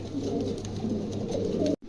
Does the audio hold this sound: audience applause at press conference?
no